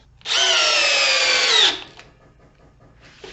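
A cordless power tool drives a 3-inch lag screw into wood in one loud, close burst lasting over a second, its whine dropping slightly under load before cutting off abruptly, followed by a brief faint whir.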